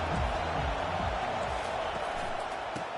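A stadium crowd at a football game keeps up a steady, broad roar of cheering that fills the whole short stretch, with a voice faintly underneath.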